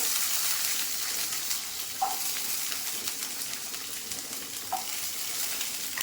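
Garlic sautés in a pan over low heat, making a dense, even sizzle and hiss throughout, with two faint soft taps from a utensil.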